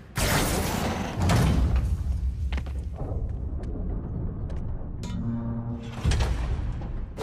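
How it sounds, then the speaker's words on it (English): A heavy trap door is hauled open in Marvel's Spider-Man: a broad thud and rumbling scrape, then a rattling, ratcheting creak and a final low thump. "Trap door."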